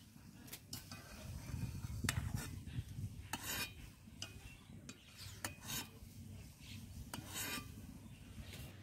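Cauliflower being cut in a home kitchen while cooking vegetable khichuri, a series of crisp knife strokes and rasping snaps through the florets, close and moderately loud, with no talking.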